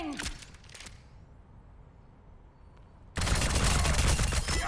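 Rapid gunfire from an Overwatch match, with a brief burst of shots at the start, a quieter gap, then a loud, dense, sustained volley of automatic fire.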